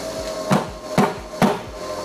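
A hammer strikes fruit to press out juice, landing three evenly spaced, heavy thuds against a steady background hum.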